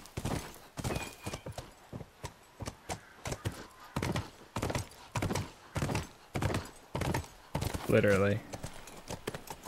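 Horse hooves clip-clop in steady rhythmic steps in the video game The Last of Us, close and fairly loud, with a brief whinny near the end and people talking over the hoofbeats.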